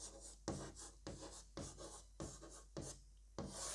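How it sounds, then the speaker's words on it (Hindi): A pen scratches across paper in a steady run of short strokes with brief pauses between them, close by and quiet, with no talking. "अभी इसको अच्छे से लिखेंगे हम"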